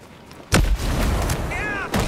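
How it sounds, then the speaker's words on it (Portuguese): Grenade explosions in a shooter video game, a sharp loud blast followed by a rumbling tail and a second bang near the end, with a voice briefly heard between them. "Granada, jogar granadas"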